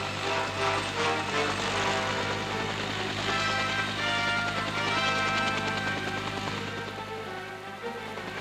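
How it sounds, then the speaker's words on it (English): A steady, dense mechanical roar with a low droning hum from an H-34 helicopter's rotor and engine running nearby, continuous and loud throughout. "this infantry squad boarding an H-34 helicopter"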